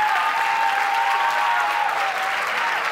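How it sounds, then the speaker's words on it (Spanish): An audience at the opening ceremony of a FIRST LEGO League 2024 competition breaks into loud, dense applause, sustained clapping from a large crowd with a faint tonal hum running underneath. "Un aplauso para ellos."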